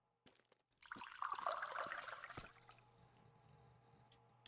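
Water being poured for the pet Leo in the video game Mon Bazou, a close splashing gush that builds quickly, then tails off into a softer trickle and faint drips.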